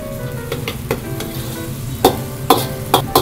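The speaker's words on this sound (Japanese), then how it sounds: "これを甜麺醤と醤油と絡ませながらゆっくりと水分を飛ばしていってあげてください" Seafood stir-fried in a wok with sweet bean sauce and soy sauce, a steady sizzle under repeated sharp scraping clatters of the spatula, close and clear with no voices.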